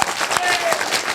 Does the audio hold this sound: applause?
yes